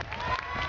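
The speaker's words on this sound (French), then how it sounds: "Applaudissez." A concert audience applauds at a live show, a brief burst of dense, steady clapping from the crowd.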